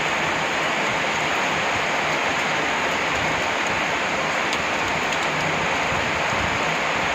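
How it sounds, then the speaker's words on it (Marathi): Heavy rain in Pune pours down steadily, a dense, even hiss of water hitting surfaces close by with no voices. "बघा कसला पाऊस आला पुण्यामध्ये"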